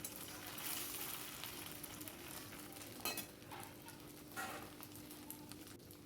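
Chhana kofta frying in oil over a very low gas flame, a soft, faint continuous sizzle with a couple of light clinks from a utensil, no voices.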